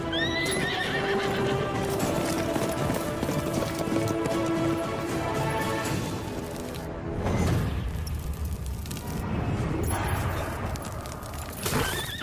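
A horse whinnies in a dramatic film scene while hooves clip-clop steadily, loud and close, with rumbling movement and a brief whoosh partway through; no talking.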